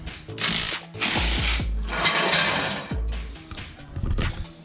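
Ratchet wrench turning suspension A-arm bolts on a race car, loud close clicking ratchet bursts with metallic clunks in several bouts, no talk.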